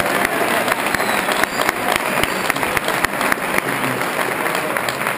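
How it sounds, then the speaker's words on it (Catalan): Applause for Rubén at a Catalan independence summer school gathering, a dense, continuous wash of clapping from the audience that stays loud and even throughout. "Voldria un aplaudiment per al Rubén."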